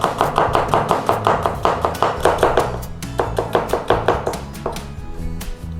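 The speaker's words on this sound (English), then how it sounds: "we're going to give these a little slice across" Knife thinly slicing onions on a cutting board for shrimp paste fried rice, a rapid, even run of close, crisp chops with a brief pause midway, no talking.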